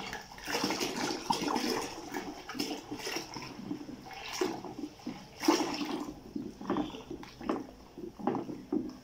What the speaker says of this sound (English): You mix it in very well.